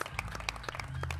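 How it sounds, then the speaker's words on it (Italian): Audience applause at a jazz concert, a 2017 summer evening performance in Bagnaia, comes as a short burst of dense hand claps from a crowd, fairly faint, with no speech over it. "Applaudite, fate sentire le mani."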